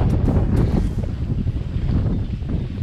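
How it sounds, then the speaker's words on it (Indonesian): Strong outdoor wind buffets the microphone in loud, rumbling low gusts that roar steadily throughout with no one speaking. "Oh, anginnya kenceng. Maklum outdoor."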